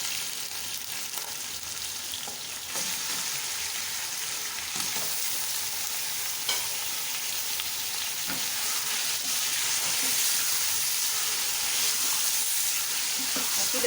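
Mutton chops frying with garlic and ginger for a masala mutton chops dish, giving a loud, steady, close sizzle and hiss with occasional stirring clinks and scrapes throughout, no talking.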